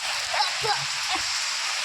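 Heavy unseasonal rain pours down steadily as a dense, close wash of noise, with faint indistinct sounds of people moving beneath it.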